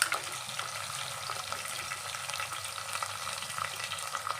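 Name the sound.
cumin and tempering spices frying in oil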